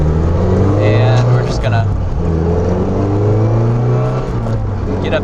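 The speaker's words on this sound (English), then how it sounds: "let's do a couple full throttle pulls" A Mazda NC Miata with a 2.5 engine swap pulls hard at full throttle, its steady loud engine drone rising in pitch under someone talking over it from inside the car.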